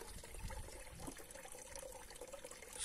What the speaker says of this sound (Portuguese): choveu, aí fica correndo essa água